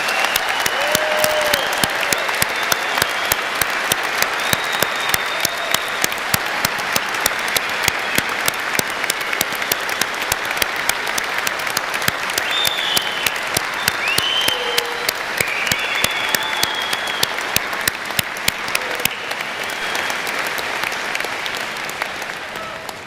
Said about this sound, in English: I ask that we please recognize these students with a round of applause